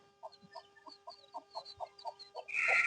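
Native country chicks cluck in a quick, even series of short, soft peeps while grazing on open ground, close by and without talk. A burst of rustling noise comes in right at the end.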